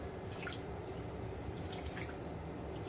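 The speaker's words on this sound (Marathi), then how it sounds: "पाण्यामध्ये ही एक वाटी डाळ टाकायची आहे आणि तिला चोळून चोळून धुवून घ्यायची आहे" Toor dal being rubbed and washed by hand in a bowl of water makes soft, quiet sloshing and dripping splashes, close up and continuous, with no talk.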